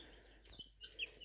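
Young rooster chick giving a few soft, faint clucks and peeps, close by in a quiet room, brief and sparse with no talking.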